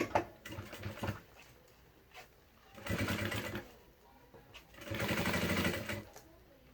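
Sewing machine stitching around the edge of a fabric bag, two sustained whirring runs of rapid needle chatter separated by short pauses and lighter handling, close and fairly quiet.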